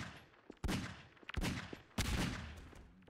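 Enemy gunfire in Garry's Mod erupts in three sharp, loud bursts, each crack trailing off in a rattling echo before the next volley.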